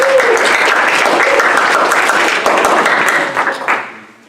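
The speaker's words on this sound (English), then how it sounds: "She deserves a round of applause." Audience applause at a SkeptiCamp event, a dense, loud wash of clapping that holds steady for about four seconds, then thins and fades out toward the end.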